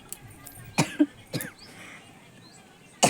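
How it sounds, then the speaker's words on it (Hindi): A person coughs a few times, sharp short bursts close by, with a quiet background and no talk. "खांसी भी हो रहा है, ठंड लग गया ना"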